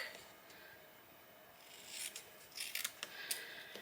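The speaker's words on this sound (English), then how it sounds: "using my paper snips, I am going to cut" Paper snips make a few quick, crisp snips as they cut through card paper, faint and close in a quiet room, with no voices.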